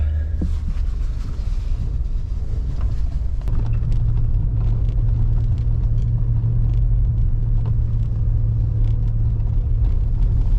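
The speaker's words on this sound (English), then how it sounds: "we're gonna drive up above with the truck and trailer" A truck towing a trailer grinds uphill, its engine a loud, steady low rumble that deepens and settles into a constant drone with occasional rattles and bumps from the rough road.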